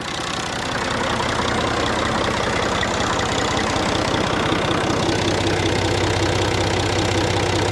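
A tractor engine running at idle after being started, topped off with fluids, a steady continuous low rumble with a slight knock, close and loud throughout.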